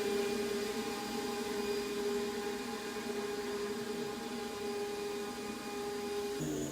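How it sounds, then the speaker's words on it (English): Vacuum pumps on a Black Box Hurricane CNC router vacuum table running one zone with primary and secondary pumps, a steady faint droning whine with stable tones, continuous throughout. "I'm going to turn the pumps on, and we're running one zone, and I'm running both primary and secondary on the Black Box Hurricane"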